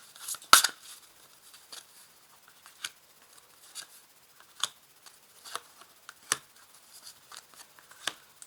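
Tarot cards are laid out on a table, giving faint, sparse paper flicks and soft taps spaced irregularly in a quiet room.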